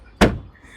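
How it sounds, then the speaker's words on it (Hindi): The heavy door of a Tata Harrier EV shuts with a single solid thud, close by and sharp, followed by brief quiet. "अगर मैं इसको नॉर्मल बंद करूँ, ये होते ही नहीं बंद"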